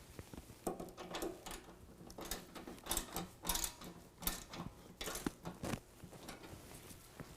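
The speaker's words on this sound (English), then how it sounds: "We're going to use a 13mm ratchet on this side and ratcheting wrench on this side." A 13mm ratchet and a ratcheting wrench tighten bolts on nerf bar brackets being fitted to a 2020 Ram 2500, with quiet bursts of rapid clicking that come in uneven runs, close but faint.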